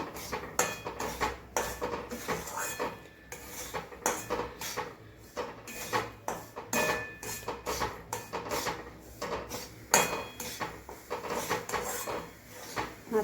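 Semolina stirred and roasted in hot ghee for Goan sheera, heard as a close, steady run of metal spoon scrapes and clinks against the pan, repeating in quick irregular strokes with no talking.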